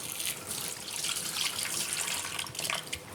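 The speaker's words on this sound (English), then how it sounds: "Now, what I'm going to do is put a little bit of water on my hands." Tap water runs steadily into a kitchen sink for a few seconds before hands are wetted for shaping meatballs, a soft, continuous hiss heard close by.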